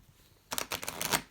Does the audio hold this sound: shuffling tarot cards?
yes